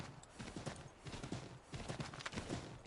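Horse hooves clip-clop in a steady trotting rhythm in the video game Assassin's Creed 3, close and fairly quiet, repeating across the whole stretch with no talking.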